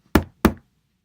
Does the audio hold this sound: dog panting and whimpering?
no